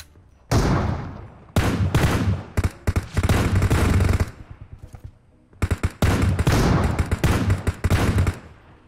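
Rapid automatic gunfire in the PUBG Mobile battle royale game, with dense bursts of shots and scattered single cracks loud and close, broken by short pauses; no talking.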